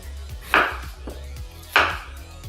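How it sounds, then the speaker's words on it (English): Knife chopping sweet potatoes into small dice on a cutting board: a rhythmic series of quick thuds with two sharper, louder strikes, close and clear with no talking. "I'm gonna continue chopping my sweet potatoes until they're in little dice-sized pieces"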